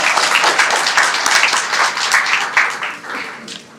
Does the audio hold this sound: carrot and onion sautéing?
no